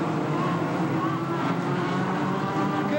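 A Jr. FF midget race car engine held at full throttle, a dense continuous high-revving buzz that stays loud and steady throughout, without audible talk.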